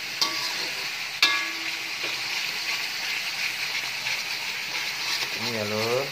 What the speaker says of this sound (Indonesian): aduk-aduk terus biar bumbunya meresap merata